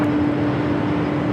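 Jet airliner taking off at Los Angeles International Airport on a full-length runway 25 Right, a loud, steady broadband roar with a constant tonal whine, heard close and unbroken with no voices.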